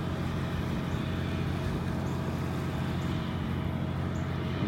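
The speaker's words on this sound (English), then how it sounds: "I'm sure you can hear that barge now." A distant barge engine drones low and steady from offshore, heard from a beach in North Naples, Florida, as a continuous rumble with no talking.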